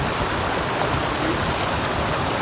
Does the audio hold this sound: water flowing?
yes